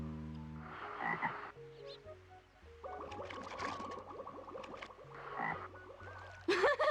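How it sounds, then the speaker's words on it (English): Frog croaking in the PS1 game Legend of Mulan: repeated low, stepped game croaks with a brighter warbling burst near the end, loud and clear with no talk. "Yeah, look at the frog."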